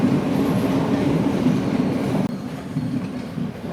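A train runs along the Indian Ocean coast near Colombo, Sri Lanka, its steady, close rumble and rattle of wheels on track filling the whole stretch, with a brief knock partway through and no voices.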